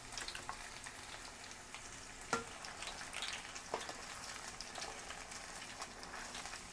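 Beer-battered onion strings deep-fry in hot oil, giving a steady, close, crackling sizzle with a few sharp clicks and clatters throughout.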